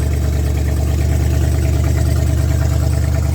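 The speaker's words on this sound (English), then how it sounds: "it sounds like a healthy engine" A car engine runs at a steady idle with its radiator removed, a loud, even, throbbing rumble with no voices over it.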